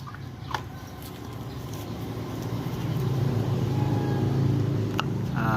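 A Suzuki Smash motorcycle with its stock muffler idles nearby, a quiet, steady low engine putter. It swells slightly in the second half, with a few faint clicks on top.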